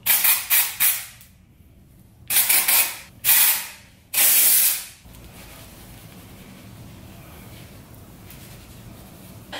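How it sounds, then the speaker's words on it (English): Aerosol dry shampoo spray hisses in a series of short, loud bursts, followed by one longer spray, then a quiet, steady background. "I'm probably gonna just spray some dry shampoo just because my hair is like looking kind of greasy."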